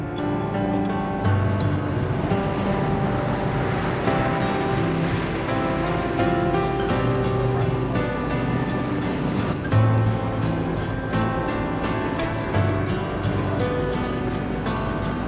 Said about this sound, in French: Le bruit des vagues contre la coque du bateau et les cloches lointaines ajoutent une touche magique à l'atmosphère